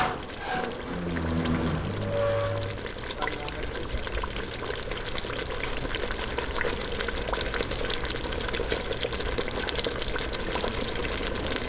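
Water poured from a container into a pot of salted milkfish pieces being prepared for sardines in tomato sauce, a steady close pouring and trickling wash that runs continuously, with a brief faint voice near the start.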